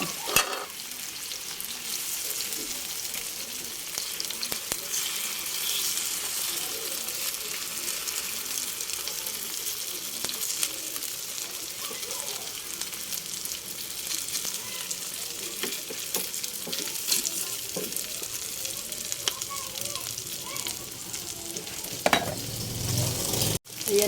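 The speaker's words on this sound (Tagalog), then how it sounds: "Luluto na po ako ng okoy. Isang malaking okoy ang aking lulutuin." Large shrimp okoy fritter frying in hot oil, a steady close sizzle and crackle that runs unbroken for the whole stretch, with brief louder clatter near the end.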